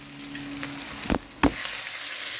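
Maggi noodles dropped into sizzling masala in a pan: a steady frying hiss, then two sharp close knocks as the noodles go in, with the sizzle carrying on after.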